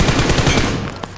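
Rapid automatic gunfire from a video game rattles out in a loud, fast burst that tapers off near the end, with no voices over it.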